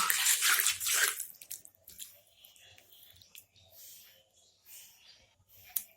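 Water is poured into a cooking pan over spice paste for a rohu fish curry with onion stalks and potato. A loud, splashy pour fills the first second, followed by faint stirring clicks and drips, with no talk.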